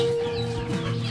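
Native chickens clucking close by, a short burst of overlapping clucks and soft calls with no talk.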